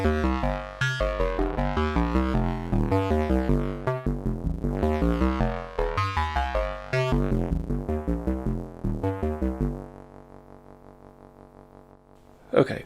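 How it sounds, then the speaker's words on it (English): A modular synthesizer voice with a wavefolder, opened by a gate from a Volca sequencer, plays a rhythmic run of bright, buzzy, folded notes that decays into a quieter sustained tone near the end. "And then when I add the fold, that comes in through the gate, so it sounds like this."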